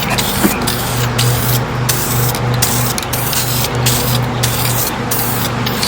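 Spray gun laying a second coat of paint on a Corvette part: a loud, continuous hissing spray close by, broken by short regular gaps as the trigger releases, with a faint steady hum underneath.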